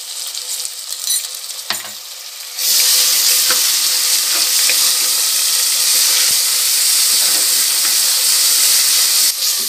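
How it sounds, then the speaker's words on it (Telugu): Onions frying in a pressure cooker for chicken biryani: after a short quieter stretch with a few clinks, a loud, dense sizzle and hiss bursts in and holds steady to the end, close by and without talk. "ఇలా ఫ్రై కావాలి ఉల్లిపాయలు"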